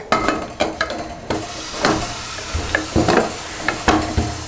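A spoon scrapes and stirs rice in a metal pressure cooker for chicken biryani, with repeated clattering strokes over a soft sizzle.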